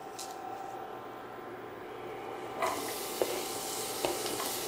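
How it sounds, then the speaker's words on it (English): Steady frying sizzle of onions in peanut oil for japchae, a continuous hiss that brightens partway through, with a few small clicks and pops. "Now the onions go in. I'm using peanut oil as the frying oil here."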